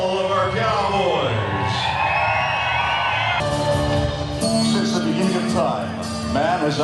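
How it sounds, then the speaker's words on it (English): A crowd at a New Year's Eve bull-riding event whoops, yells and cheers for the cowboys, a loud, sustained roar with individual shouts rising above it and an announcer's amplified voice mixed in. "How about a round of applause for all of our cowboys?"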